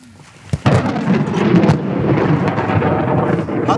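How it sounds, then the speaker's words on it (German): Thunder from an approaching thunderstorm cracks sharply and then rolls on as a long, loud rumble, heard close and with no voices over it. "Ist nicht mehr weit weg, das Gewitter."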